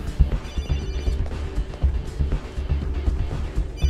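A mobile phone rings in a tense action-film scene, its ring partly buried under a dense low rumble of music or ambience that continues throughout.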